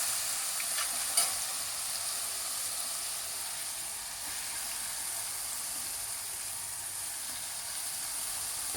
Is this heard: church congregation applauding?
no